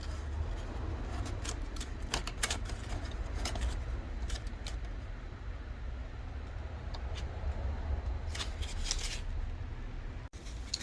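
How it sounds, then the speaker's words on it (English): Paper is folded by hand beside a Kyocera Copystar copier, a series of close crinkling and rustling bursts over a low, steady machine hum, with no talking. "Just fold up some paper here"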